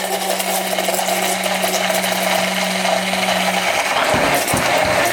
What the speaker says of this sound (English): you want to get this blitzed up nicely. Then we're just going to start streaming in our hot butter.